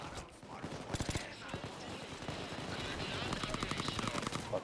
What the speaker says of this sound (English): my gun just will not stop shooting